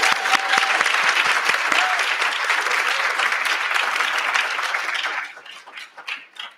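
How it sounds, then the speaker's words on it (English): Sustained audience applause at a children's rights kickoff event, loud and steady with dense clapping, then thinning out and fading over the last second or so. "If we could give them a round of applause"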